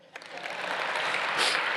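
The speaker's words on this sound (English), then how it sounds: "You're supposed to clap for that." A gala audience breaks into applause for an honoree's speech, the clapping swelling quickly from a few scattered claps into a full, even wash over about two seconds.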